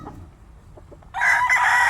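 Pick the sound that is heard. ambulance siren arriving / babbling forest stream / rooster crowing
rooster crowing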